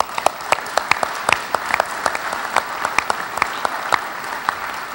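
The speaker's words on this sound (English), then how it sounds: "Let's give them a round of applause as well." Applause from a staff breakfast audience as university committee chairs stand, a dense patter of many hands with sharp nearby claps standing out in an uneven rhythm, continuing steadily throughout.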